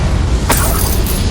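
Confringo blasting spell in Hogwarts Legacy, a single sharp burst bursting over a constant loud rumbling game background.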